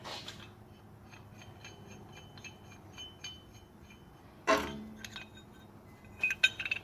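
A giant chain puller ratchets in a series of quiet metallic clicks and clinks, followed by a sharp louder clank midway and a few more bright clinks near the end, with no talking.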